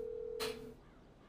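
A short dialing tone from a phone in GTA Online sounds once, steady and faint, ending in a brief burst of noise.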